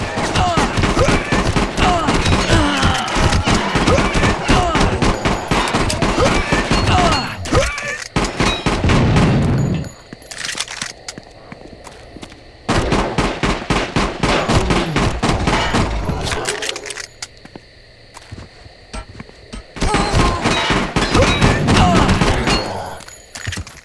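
Magnum pistol gunfire in the shooter Hellforces, loud dense bursts of shots and impacts in three stretches separated by brief quieter gaps, with talking over parts of it.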